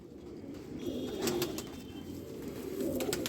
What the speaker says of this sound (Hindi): नाराज़ हो रहा है ये कबूतर